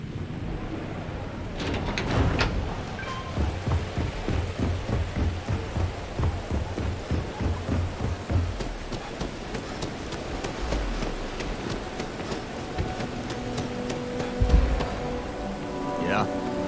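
Steady rain pattering on surfaces in the video game Starfield, with low thunder rumbling, a few footstep-like thuds and faint game voices now and then.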